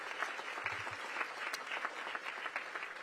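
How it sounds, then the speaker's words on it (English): A crowd applauds at a hospital ribbon-cutting ceremony for Cedar Hill Regional Medical Center GW Health, producing a continuous, fairly loud burst of clapping with a couple of low thumps early on. "Give them a big round of applause."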